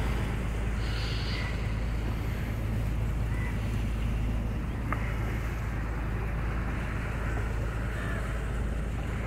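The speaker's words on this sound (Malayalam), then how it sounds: "Boat house." A houseboat motors along the backwaters of Alleppey, Kerala, its engine a continuous low drone mixed with wind rush and open-water ambience.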